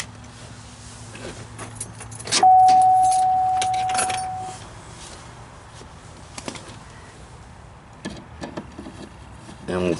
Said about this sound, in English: Just going to raise the window up a little bit, just so I can get a socket on that.